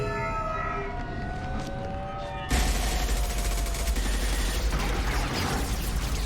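A wailing siren-like tone fades, then a sudden loud burst of rapid automatic gunfire erupts and continues densely in the Mass Effect 2 video game, close and harsh.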